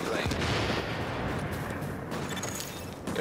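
Dense, continuous gunfire from enemy agents in the video game Tom Clancy's The Division, a steady loud roar of rapid shots with no clear pauses.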